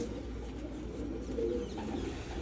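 A female pigeon coos softly in low, drawn-out murmurs against a faint steady background hum, kept at a breeding loft; no one speaks.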